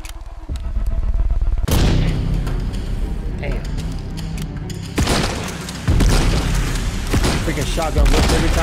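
Gunfire and a red barrel exploding in the indie FPS game Project Ferocious, with sharp booms and crashing blasts at intervals under a loud game soundtrack and a voice talking over the action.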